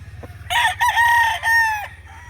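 LDT Gray gamefowl rooster crowing once nearby, a loud, strained cock-a-doodle-doo lasting over a second, preceded by a soft cluck and followed by quiet.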